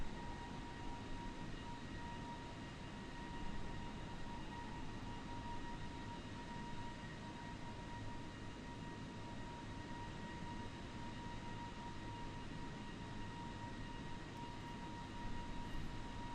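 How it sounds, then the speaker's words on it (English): Steady, droning engine hum of a JetBlue Airbus A320neo airliner in a flight simulator, a constant broadband roar with a faint tonal whine, unchanging and alone with no talking. "we'll just keep the lovely sound of our airplane in the background for now"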